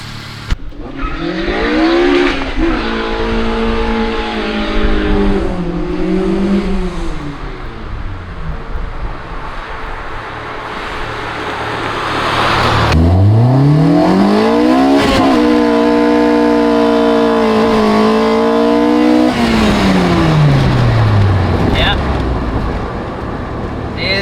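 K20-swapped Honda Civic EK race car revving hard and accelerating with wheelspin, engine note rising and falling in two long loud pulls, with someone talking over it.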